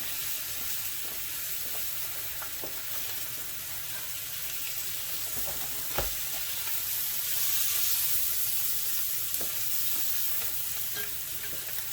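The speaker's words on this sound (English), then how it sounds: "My bacon's getting to where I like it, and I'm ready to flip." Bacon sizzles steadily in a frying pan for a brunch lobster omelette, a continuous close crackle and hiss with a few sharper pops along the way.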